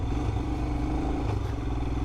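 A Royal Enfield Himalayan 411 motorcycle braking with its ABS switched off on the rear wheel, the engine droning steadily close by with a rough rumble and scraping clatter from the rear tire dragging.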